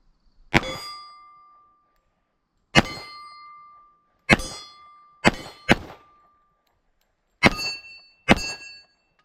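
An original 1945 Remington Rand 1911 pistol, fired one-handed, sends seven sharp, loud reports at irregular intervals toward targets, each crack followed by a ringing metallic decay, with silence in between.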